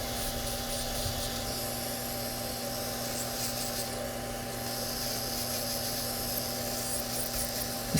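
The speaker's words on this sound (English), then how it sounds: "I'm going to go back and I'm going to start filing away all the gel off the fingers" An electric nail file with a sculpted-gel bit grinds gel off fingernails, producing a steady high-pitched motor whine with faint grinding as the bit works the nail surface, close and continuous.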